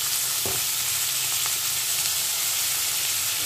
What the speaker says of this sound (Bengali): আমার তেলটা গরম হয়ে গেছে, এবার চপ করা পেঁয়াজটা দিয়ে দেবো।